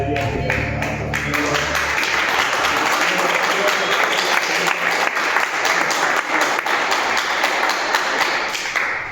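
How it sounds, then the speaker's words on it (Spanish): A church congregation applauds, with a dense, steady wash of clapping that continues at an even level throughout, with music and voices briefly audible underneath at the start. "Ese aplauso que dijo el Señor, ahí va"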